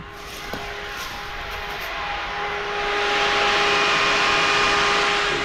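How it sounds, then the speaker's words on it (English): An electric radiator fan on a Land Rover rat rod tow truck whirring steadily, a broad rushing hum that builds and grows louder over a few seconds with a faint tonal whine. "There's an electric fan."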